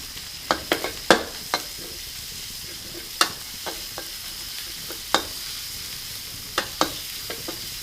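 Seafood stir-fried with basil in a pan on Phayam island, Thailand: a faint steady sizzle under a series of sharp, close clinks and scrapes from a utensil striking the pan at irregular intervals.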